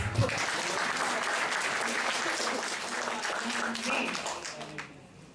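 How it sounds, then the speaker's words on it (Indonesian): An audience at a creative-sharing event in Surabaya applauds steadily, a dense wash of clapping that holds for several seconds before thinning near the end. "Tepuk tangan ya."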